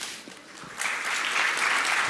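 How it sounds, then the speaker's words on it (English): An audience claps to welcome a speaker onto a conference stage, the applause starting soft and swelling into a fuller, sustained round of clapping. "Let's welcome him on stage with a huge round of applause."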